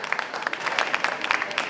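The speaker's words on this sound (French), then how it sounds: "Applaudissements s'il vous plaît." Audience applause at a tenth-anniversary association gala in the Île-de-France region, following a trophy presentation; steady, moderately loud clapping from a crowd for under two seconds, with a hint of voices mixed in.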